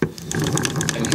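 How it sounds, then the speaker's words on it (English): A British hand crank turning a Willcox and Gibbs sewing machine gives a close, steady mechanical whirring with regular ticking clicks from the gears, heard alone without speech. "Here's how the British hand crank sounds."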